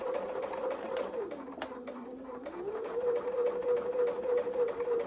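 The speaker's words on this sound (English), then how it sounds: "and I'm going to sew. And I'm taking it nice and steady." A sewing machine runs steadily stitching a 1/4 inch seam on fabric, a close, continuous whirring hum that dips in pitch briefly midway before resuming its even, rhythmic buzz to the end.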